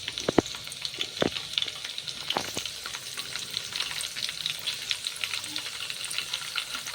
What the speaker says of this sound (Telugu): ఆయిల్ హీట్ ఎక్కిన తర్వాత పచ్చిమిర్చి ముక్కలు వేయండి.